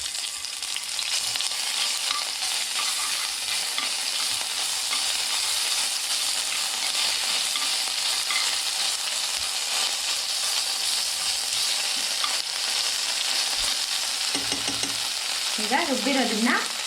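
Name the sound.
mustard seeds spluttering, ginger garlic paste frying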